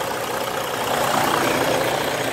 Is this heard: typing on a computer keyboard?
no